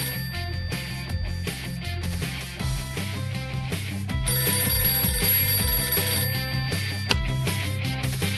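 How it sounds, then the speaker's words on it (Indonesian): Telephone ringing in a children's vehicle video game, a bright repeating electronic ring layered over busy game music and sound effects, steady and close, with no voices. "Dengar, telepon berdering."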